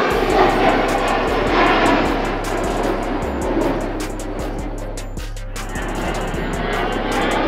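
Su-35BM fighter jet engine roaring steadily with a broad, loud jet rumble and a low droning hum throughout, no talk over it.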